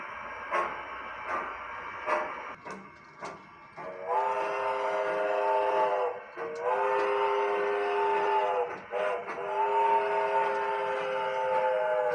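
A G scale model train rolls downgrade over a trestle, a steady mechanical rumble with a sustained whistle-like tone sounding in long stretches, broken by brief ticks and clatters.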